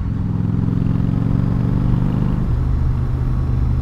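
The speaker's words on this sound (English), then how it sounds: "taking the V-Star for a cruise" A Yamaha V-Star 1100 (XVS1100) cruiser motorcycle being ridden, its engine giving a loud, steady low rumble that shifts to a lower pitch partway through.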